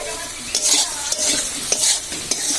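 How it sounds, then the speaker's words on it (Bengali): Turmeric, coriander powder and green chillies fry loudly in a pan, with a dense close sizzle and rhythmic scraping strokes of a spatula stirring them. "তো আমাদের মশলা ভাজা হয়ে গিয়েছে"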